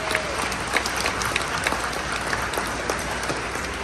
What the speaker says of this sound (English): let us give Mrs. Enriquez a round of applause.